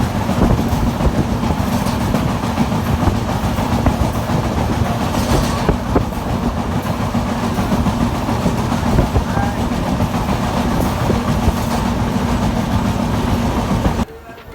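Ashram Express sleeper class train running on rails, a loud continuous rumble with rattling carriages and clickety-clack from inside the coach, lasting about fourteen seconds before cutting off.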